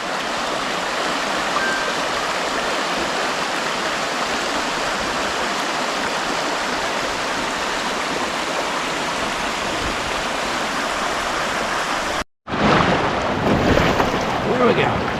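River rapids on the Choctawhatchee heard from a kayak, a loud steady rush of churning water with wind buffeting the microphone, broken by a brief cutout before the rushing resumes.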